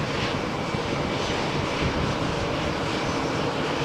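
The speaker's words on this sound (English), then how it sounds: "The EasyJet flight from Malaga to Liverpool is operated by an Airways A319-111" An EasyJet Airbus A319-111 bound from Malaga to Liverpool runs its engines in a loud, dense, steady roar on a stormy morning at Malaga Airport, with no talk over it.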